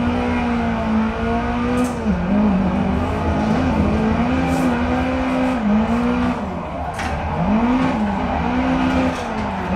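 A race car engine in a racing sim game drones and revs up and down, pitch swooping, with tire squeal and skidding from a drift out of the pit, loud and continuous.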